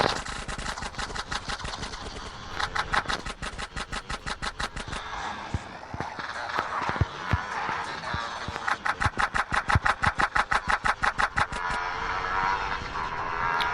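A motorbike engine in the game GTA San Andreas runs steadily up close, its rapid pulsing putter rising and falling as the throttle changes, with louder revving bursts near the start and toward the end.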